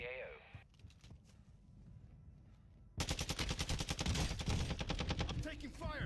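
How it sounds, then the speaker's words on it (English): Rapid automatic gunfire in Call of Duty MW2 multiplayer, a few sparse shots at first, then a loud, dense burst of fast repeated rounds over the last few seconds. "I'm taking fire."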